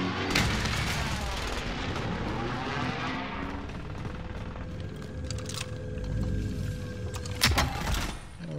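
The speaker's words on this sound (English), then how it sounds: "Oh, he threw a grenade at him." Call of Duty: Modern Warfare match with a heavy grenade blast rolling out at the start, followed by scattered gunshots and booming battle noise, loud and close with a sharp impact near the end.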